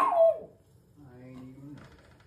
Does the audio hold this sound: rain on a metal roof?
no